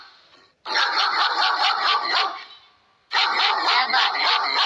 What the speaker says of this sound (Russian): что за лай собачий?